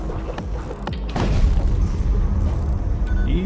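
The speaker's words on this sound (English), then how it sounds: "The explosion scatters debris in every direction, enough to be worth scavenging." A ship blows up in a space combat battle in the PC game Void War, giving a deep booming blast followed by a sustained rumbling roar with scattered electronic tones.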